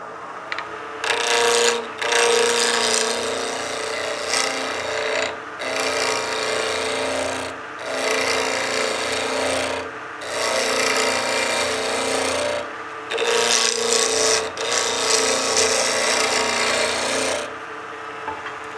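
A wooden pizza cutter handle being turned on a lathe, loud raspy cutting in long bursts separated by brief pauses as the tool lifts off, over the steady hum of the machine.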